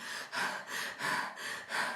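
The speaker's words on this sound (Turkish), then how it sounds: "bu şekilde nefes alıyorum" A person demonstrates agitated, angry breathing: five sharp, forceful breaths in quick succession, each a loud airy rush close to the microphone, separated by brief pauses.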